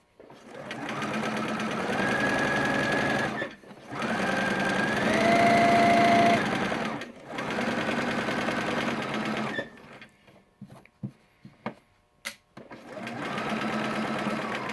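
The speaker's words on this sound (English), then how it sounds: "And then I'm going to sew the rest of the seam." A sewing machine stitching a seam in three loud, steady motor-driven runs of rapid needle chatter with short pauses between them, then a few quieter clicks before it starts up again, close by with no talk.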